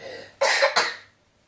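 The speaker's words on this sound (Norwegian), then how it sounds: "Host inn i albumen." A person coughs twice into the crook of the elbow, two quick, harsh bursts close and loud, then quiet.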